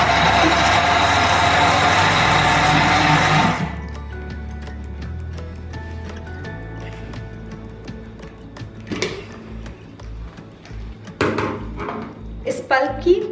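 A kitchen blender purees mango pulp with a loud, dense whirring roar for the first few seconds, then cuts off, leaving quieter clinks of dishes and utensils.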